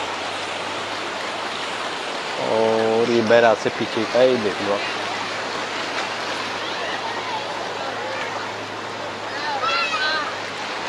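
Broad, steady rush of the Ganges flowing in high water near Triveni Ghat in Rishikesh, by a barrage, continuous and fairly loud under someone talking.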